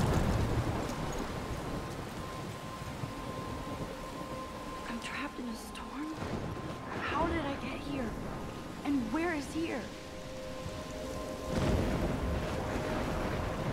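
Steady rain in the video game Life is Strange, a continuous soft hiss of falling droplets under a low ambient drone, with a voice talking intermittently over it.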